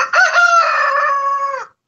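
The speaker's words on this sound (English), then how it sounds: "My rooster Teddy." A rooster crows once, loud and close, a long harmonic call that holds steady then cuts off cleanly, with silence afterward.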